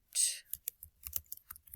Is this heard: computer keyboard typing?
yes